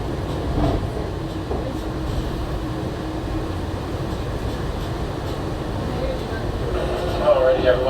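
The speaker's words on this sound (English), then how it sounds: "Thank you all for spending part of your morning with us here for the Walt Disney World Monorail." Walt Disney World monorail running near the Transportation and Ticket Center, a steady close rumble of the train cabin with a faint electric whine rising toward the end; a public-address voice speaks over it.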